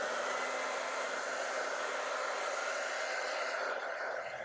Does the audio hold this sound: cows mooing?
no